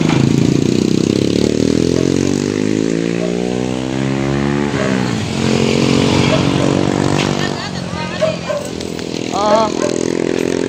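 A motorcycle engine runs steadily close by, its pitch rising and falling as it revs, with people talking over it throughout.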